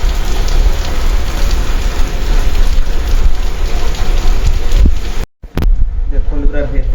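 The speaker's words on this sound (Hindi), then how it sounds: "वर्षा माने भयंकर वर्षा" Heavy rain pours down steadily and loudly as a dense, unbroken roar, briefly cutting out near the end before resuming, with wind buffeting the microphone.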